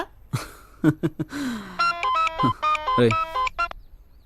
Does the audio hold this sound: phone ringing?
yes